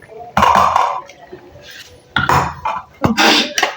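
A metal cooking pot is scraped clean of ground masala paste while chicken bhaji cooks, giving several loud, close scraping and clanking bursts with short pauses between them.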